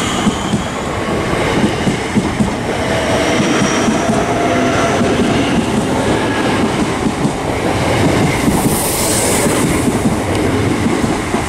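A Class 466 electric multiple unit train at Sevenoaks station on the South Eastern Main Line rumbles steadily and loudly throughout, with continuous wheel and rail noise and a brief higher squeal near the end.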